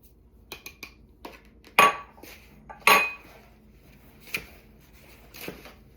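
Chunks of beef for stew get tossed and coated in flour in a bowl, giving sparse, light clinks and scrapes of a utensil against the dish, with two louder knocks in the middle and otherwise quiet gaps.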